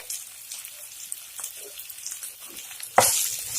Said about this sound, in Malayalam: ഒന്ന് ഉടച്ചു കൊടുത്തിട്ട് നന്നായിട്ട് വഴറ്റണം.